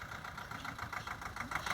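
A tractor engine idles steadily with a low, continuous rumble and a faint knocking texture, fairly close and with no talking.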